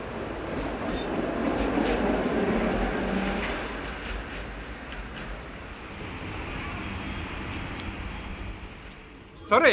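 A tram travelling through Sarajevo, its broad rumbling rail noise rising and easing steadily throughout, with faint rattles and a sharp louder clatter near the end.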